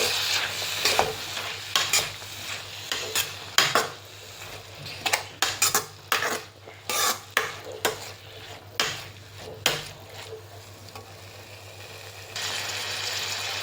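Chopped tomatoes fry for egg bhurji, a mandakki (puffed rice) dish, while a spoon stirs them in the pan. Quick rhythmic scrapes and clinks ride over a soft sizzle, and the frying hiss rises near the end.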